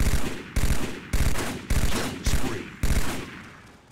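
Halo 2 battle rifle firing in six sharp bursts, evenly spaced about half a second apart, loud and close with no voices.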